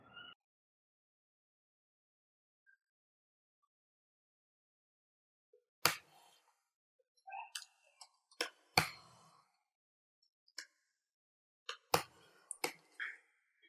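Scattered keyboard key presses in a quiet room, a few isolated taps then brief clusters of clicks after a long silence.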